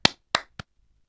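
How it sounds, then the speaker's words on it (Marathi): A church congregation at a Sunday worship service claps to welcome the preacher. Three sharp, separate hand claps ring out close and clear, each quickly fading into silence. "देवाच्या दासाचं आणि देवाच्या वचनाचं टाळ्या वाजवून आपण स्वागत करूया"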